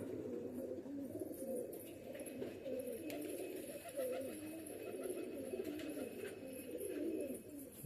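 A flock of pigeons kept for sale in a loft coos continuously, overlapping low warbling calls, soft and steady with no talk.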